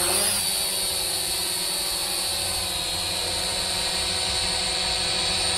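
A small brushed S162 Mavic Mini clone drone lifts off, its rotors spinning up into a loud, steady high-pitched whine and buzz that holds close and constant.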